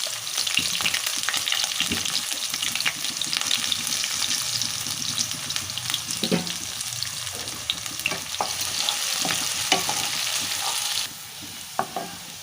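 Roughly chopped onion fries in hot mustard oil in a kadhai, a steady close crackling sizzle running throughout with scattered pops and occasional stirring scrapes, easing slightly near the end, no talk.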